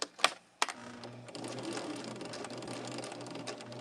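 A sewing machine stitches quilt fabric for star-patterned sashing. Two sharp clicks come first, then a steady, close whirring run of stitches that lasts to the end.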